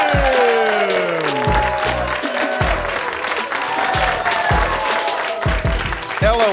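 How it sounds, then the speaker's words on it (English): Comedy show audience applauds the host of a Chicago stand-up night, dense clapping and crowd noise sustained throughout, with loud music and a voice running over it. "A big round of applause for your host this evening"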